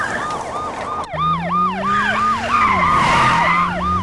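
A South Korean police car chases a Ferrari with its siren wailing in rapid, repeating up-down sweeps. A revving engine tone climbs beneath it, and the sound is loud and close.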